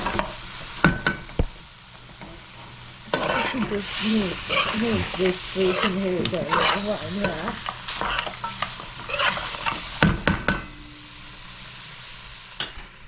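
Lamb pieces with ground green seasoning sizzle and fry in a pot, a steady crackling hiss broken by sharp clicks and stirring scrapes, with people talking over it.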